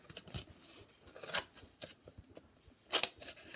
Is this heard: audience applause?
no